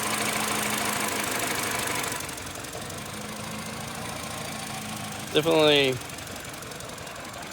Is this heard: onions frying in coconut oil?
no